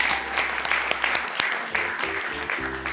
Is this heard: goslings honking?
no